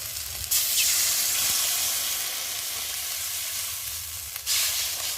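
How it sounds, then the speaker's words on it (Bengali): Water is poured onto fried mustard masala for a tilapia fish curry, a bright, steady hiss and sizzle with sharp surges at the start and again near the end. "আর এখন আমি জল দিয়ে দেবো।"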